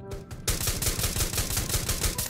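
Rapid automatic gunfire rattles out in the mobile battle royale game Rules of Survival, a loud burst of quick close shots after a short quieter start, with no one talking.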